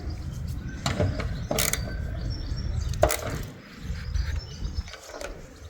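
A ratchet tightens a 10mm bolt on a 1979 Cadillac Seville's fuel pump wiring, giving a few sharp mechanical clicks and bursts of turning over a quiet, fairly close background.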